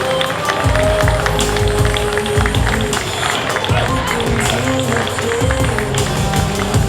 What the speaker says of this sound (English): A big round of applause for the people that love a game that's older than DreamHack.